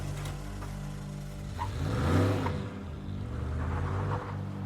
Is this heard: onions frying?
no